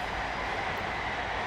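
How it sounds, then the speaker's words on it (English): A train passes nearby, a loud broadband rumbling roar that holds steady throughout, heard alone with no talk over it. "and that is a train right there,"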